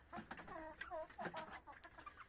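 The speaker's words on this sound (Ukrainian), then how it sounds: "І ще я купила 4 куриці." Decable White hens cluck softly and repeatedly in a faint, close series of short calls, with a few quiet bursts.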